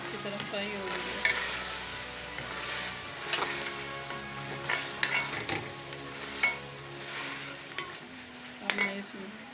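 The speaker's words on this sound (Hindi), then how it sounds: "ये कलेजी हमारी अच्छी तरह फ्राई हो गई है।" Kaleji (goat liver) fries in a pan with a continuous low sizzle while a spoon stirs and scrapes, giving sharp metallic clinks and knocks at irregular intervals, close and fairly quiet.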